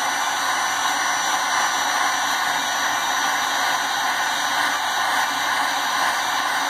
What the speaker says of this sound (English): we're actually going to just heat all four of these leads up at the same time with the heat gun